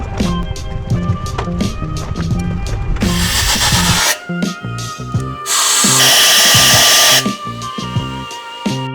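Spark plug tubes on an engine are blown out, giving two loud, close bursts of rushing air hiss, each about a second long, over a busy, steady mechanical and tonal background.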